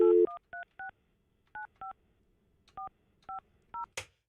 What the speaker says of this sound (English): I'm going to call her again one more time.